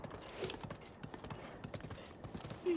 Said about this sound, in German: Und reiten ein bisschen.